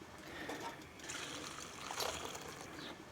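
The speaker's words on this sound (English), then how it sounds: "I'm going to plunge this into boiling salted water and then take it out and put it into iced water to shock it" Cooking greens are plunged into boiling salted water, then into iced water, producing close, soft bubbling, sloshing and trickling water sounds with a brief splash in the middle.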